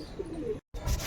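Pigeons perched together make a soft, faint cooing murmur, broken by a short silent gap and then a slightly louder burst.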